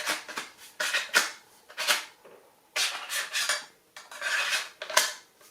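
A Cold Steel Bushman Bowie knife being worked into its plastic sheath, giving a series of close scraping rasps and short clicks in irregular bursts, with no talking.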